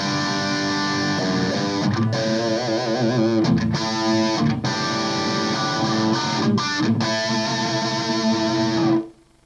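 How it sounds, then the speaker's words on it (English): Electric guitar plays through a Blackstar ID amp on its EL84 setting, crunchy with a little reverb: sustained distorted chords and a short run of notes, loud and alone before cutting off sharply at the end. "So this is just your EL84 reference tone here."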